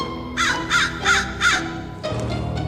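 Four loud, harsh caws from a nearby crow in quick succession, followed by quieter background noise.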